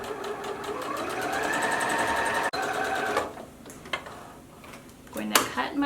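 Sewing machine running a straight stitch on baby hat fabric, a steady close mechanical hum of rapid needle strokes for about three seconds, then short clicks and handling noises as it stops.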